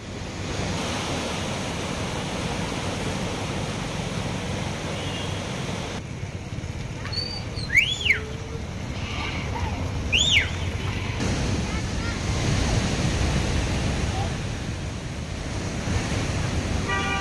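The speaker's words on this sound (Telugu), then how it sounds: "అధికారులు జూరాల ప్రాజెక్టు 46 గేట్లను ఎత్తివేసి నీటిని దిగువకు విడుదల చేస్తున్నారు" Floodwater pours through the 46 raised gates of the Jurala project dam as a steady, broad roar of rushing water, loud and continuous, with a few faint high whistles briefly heard over it.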